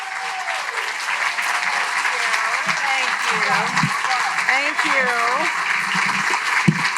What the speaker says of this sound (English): Please join me in welcoming to the stage with a giant round of applause, Marianne Elliott.